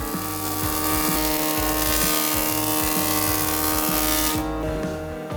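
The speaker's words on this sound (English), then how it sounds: "As my automatic planer has two blades, I need to press slowly to create a beautiful surface." An automatic electric hand planer with two blades shaves a wooden entrance stile, giving a loud, steady motor whine with rhythmic cutting pulses, close up, that drops off sharply near the end.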